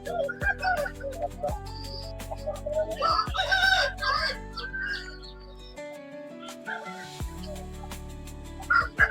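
Chickens and roosters at a busy village poultry market cluck and crow nearby, with a loud cock-a-doodle-doo rising over scattered chirps and a murmur of distant voices.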